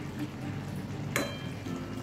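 A spoon stirs simmering Bengali ridge gourd and poppy seed curry with potato in a pan, a soft steady bubbling and sizzle with one brief clink of utensil against the pan.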